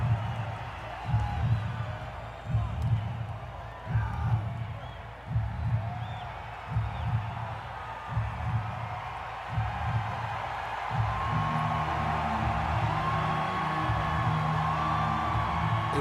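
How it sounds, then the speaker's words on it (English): A concert crowd roars and cheers, a dense wall of whoops and yells pulsing in waves and then holding steady, heard from within the audience. "See, the crowd's like pumped."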